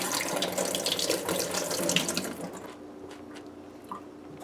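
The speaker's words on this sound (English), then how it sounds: "we're gonna wash our Bigan and Eddo together" Eggplant and eddo being rinsed together under a running kitchen tap, a steady loud stream of water splashing into a sink that cuts off partway, leaving faint drips and quiet room noise.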